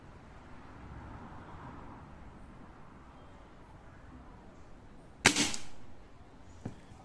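Air rifle fired at a small target 45 metres away outdoors, one sharp loud crack breaking a quiet ambient background, followed a moment later by a faint distant impact tick.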